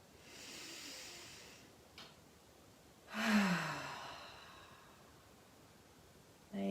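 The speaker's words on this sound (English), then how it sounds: "Deep inhale through the nose. Exhale out the mouth." Two slow, audible exhalations through the mouth in a calm yoga session, a soft breathy rush followed by a longer, louder sighing release, with a fresh breath drawn at the very end.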